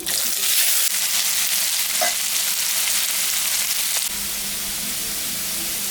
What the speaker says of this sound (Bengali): ওর মধ্যে এলাচ, দারচিনি, শুকনো লঙ্কা, জিরা, সম্বরা দিয়ে দিলাম।